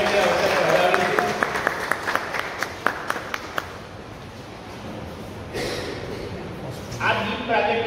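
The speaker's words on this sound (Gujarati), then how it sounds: "આપણે બધા તાળીઓના ગણગડાટ સાથે આ ગીત આપણે જે અવસર વધાવીશું" Audience clapping at a personality development seminar: brisk applause up front with sharp individual claps, thinning out, then a burst of sound and voices toward the end, fairly distant in a hall.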